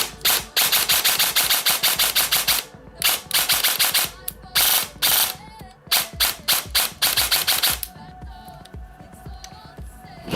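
An ICS M16 airsoft rifle fires in repeated full-auto bursts of crisp, rapid clicking shots separated by short pauses, loud and close, followed by a quieter mechanical hum at the end.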